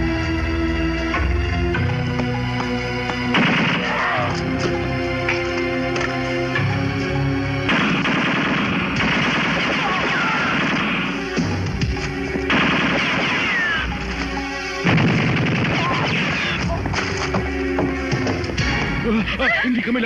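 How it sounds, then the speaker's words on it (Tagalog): Gunfire in a shootout inside an office, shots coming from behind a filing cabinet: dense bursts of rapid shots repeating over a long stretch, loud and continuous, mixed with background music and voices. "Nagmumula ang putok sa likod ng filing cabinet."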